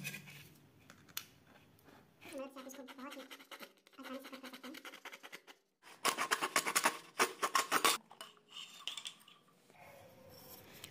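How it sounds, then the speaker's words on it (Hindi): An empty metal deodorant bottle is cut by hand, with irregular scraping and rasping strokes that build to a loud, rapid run of sawing scratches partway through, close up and with short pauses between. "तो हम ये डिओड्रेंट के बोतल पे सबसे पहले निशान लगा लेते हैं और यहाँ से इसको कट करेंगे"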